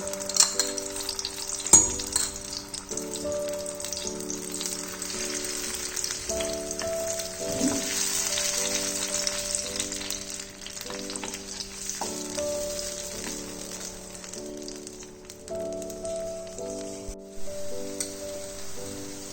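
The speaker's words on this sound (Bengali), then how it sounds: "ওই সেম তেলটার মধ্যে এবার আমি টমেটো পিউরিটা ফ্রাই করে নেব।" Tomato purée fries in oil left in the pan from earlier, for a poppy-seed posto dish, giving a steady soft sizzle throughout under background music with sustained tones.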